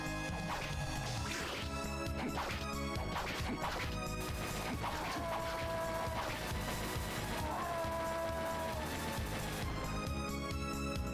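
Enemy death sounds from Castlevania: Dawn of Sorrow, loud crunchy smash-and-crash hits over dense game music, with short tonal electronic sweeps in the middle and no voices.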